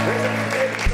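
A studio audience claps on a Brazilian late-night talk show, loud applause that blends with a speaking voice before ending abruptly.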